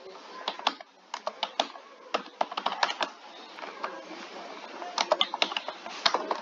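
Someone types a name on a computer keyboard into an online will-registration form, with irregular bursts of crisp key clicks and short pauses between words, close and fairly quiet.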